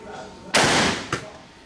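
Two sharp, loud .44 Magnum revolver gunshot blasts outdoors, the first heavy and booming with a long rumbling tail, the second shorter and a bit softer about half a second later.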